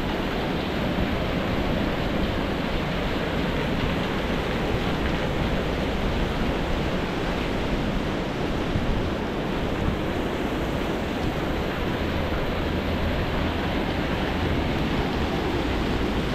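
Falling water at Sentosa, Singapore pours in a constant, dense rushing hiss that never lets up, close and fairly loud, with no other sounds over it.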